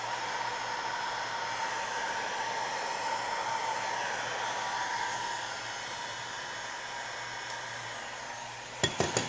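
A heat gun or hair dryer blowing hot air over wood marked with FriXion pen, a steady close whooshing hiss that softens slightly near the end, followed by a few light clinks.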